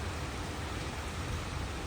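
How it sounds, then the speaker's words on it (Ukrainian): Heavy rain pours beyond an open balcony at a villa in Milan, a dense, steady hiss of falling water that fills the space without pause before cutting off abruptly. "почався просто неймовірний дощ. У мене відкритий балкон."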